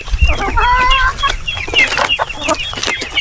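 Farm chickens clucking steadily while feeding, several birds close by with overlapping calls and scratchy activity underneath, no talk.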